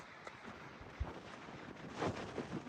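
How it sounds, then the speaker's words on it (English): Wind gusts buffet the microphone on an exposed hilltop at Rocky Knob, Dolly Sods Wilderness, West Virginia, low rumbling swells with a stronger blast near the end, fairly quiet overall. "It's very windy up here."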